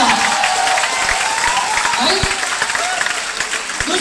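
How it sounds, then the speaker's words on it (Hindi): An audience claps loudly and continuously at an event in Lucknow, a dense crowd applause that fills the whole short stretch under faint background voices. "जोरदार तालियां"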